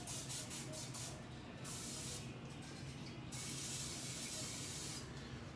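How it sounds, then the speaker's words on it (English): Short hissing bursts of an olive oil spray can onto a grill spatula, three or four quick spritzes close by. "I'm gonna grab some of this olive oil spray here and spray this spatula down"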